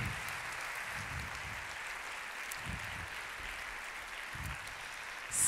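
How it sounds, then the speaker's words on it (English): A concert hall audience at an environmental education congress applauds, a fairly faint, steady wash of clapping that carries on without a break. "An extra applause to the cultures."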